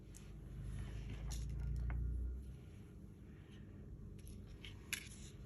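Scissors cut through a paper craft tag made from masterboards: a short run of soft, crisp snips close up, followed by quiet rustling and a single small tap.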